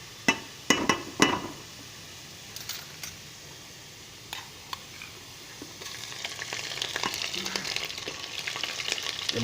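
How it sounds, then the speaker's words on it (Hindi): Ginger garlic paste frying with golden browned onions in a pan for a potato and eggplant curry, with a few sharp utensil clinks early on and then a steady sizzle that grows louder, no talk. "अभी हम इसमें शामिल करेंगे अदरक और लहसुन की पेस्ट।"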